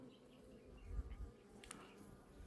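Faint low droning buzz of honeybees around a multi-frame hive, with a few soft bumps and a brief rustle, quiet and close.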